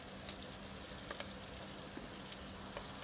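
Onions fry in a pan for a meal-prep dinner with fresh pasta, giving a steady, quiet crackling sizzle with occasional small pops throughout, no voices.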